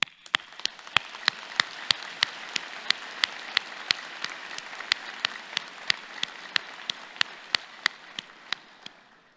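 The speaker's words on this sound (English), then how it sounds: "join me in the platform party in thanking them with a vigorous round of applause" Guests at the University of Toronto Mississauga Spring 2023 convocation applaud, with sharp, regularly spaced claps standing out over a soft wash of wider clapping that fades toward the end.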